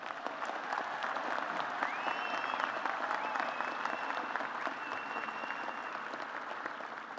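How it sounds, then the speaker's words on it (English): A large audience at a fall university commencement ceremony at Virginia Tech applauds the graduate students, a sustained, even wash of clapping from a big hall that holds steady from start to finish, with a faint voice in the background. "Please join me in a round of applause for our graduate students."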